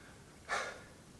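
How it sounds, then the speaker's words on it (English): A single deep breath is drawn and released during a home leg workout, heard close and soft as one brief whoosh against quiet room tone. "Nice deep breath."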